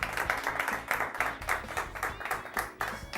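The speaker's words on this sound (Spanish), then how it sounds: "Y un aplauso para que aparezca Antonio." Studio audience clapping in quick rhythmic bursts on a Spanish-language talk show, a moderate crowd applauding steadily at mid distance with no voices over it.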